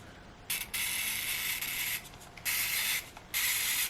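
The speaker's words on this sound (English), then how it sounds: "so you just turn the dial right there" Dial of a Stanley twin daily mechanical timer being turned by hand, close bursts of dense ratcheting clicks in several separate runs with short pauses between them.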